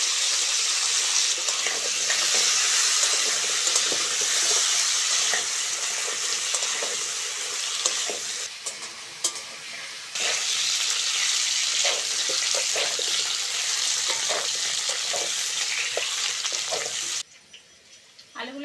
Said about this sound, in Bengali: বেশ লাল লাল করে ভেজে নিয়েছি